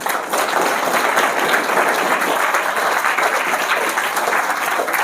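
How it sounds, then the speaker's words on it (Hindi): Sustained audience applause at a Hindi-language moral education talk in Dumka, Jharkhand, steady and dense clapping throughout with no gaps. "इसलिए आप अपने टीचरों को ताली बजा करके धन्यवाद दो ऐसे कार्यक्रम के।"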